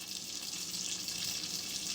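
A bacon sauce simmering in a pan beside salmon, a soft, even frying hiss that holds steadily at low level for the whole stretch, with no voices.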